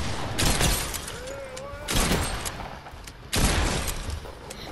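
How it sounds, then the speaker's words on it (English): Gunfire in Fortnite, a henchman firing a minigun: three loud bursts of rapid automatic fire, each roughly a second long, separated by short gaps over a constant background of game noise. "So, a henchman's on me with a freaking minigun."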